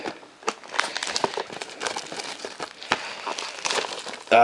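Foil wrapper of a 2016 Topps Museum Collection baseball card pack being torn and crinkled open, close and crisp, a steady run of papery rips and crackles with no talk.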